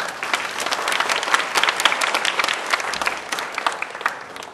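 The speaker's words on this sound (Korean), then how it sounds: "격려의 박수하겠습니다." A congregation claps in encouragement for a choir after a hymn at a university church service, with steady, dense applause sustained throughout and no speech over it.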